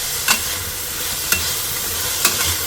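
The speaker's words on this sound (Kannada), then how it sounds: "ಈಗ ಚೆನ್ನಾಗಿ ಫ್ರೈ ಆಗಿದೆ ಮೇಥಿ" Fenugreek leaves (methi) frying with onions in a pan give a steady soft sizzle, broken by three sharp spatula scrapes or taps spaced about a second apart, with no voices.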